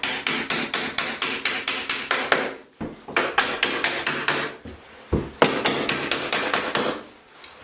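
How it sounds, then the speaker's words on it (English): A hammer knocks door hinge pins down in rapid, evenly spaced metallic taps, two long runs of strikes separated by short pauses, loud and close with no talk. "And knock all the hinge pins all the way down."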